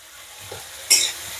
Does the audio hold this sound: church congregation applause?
no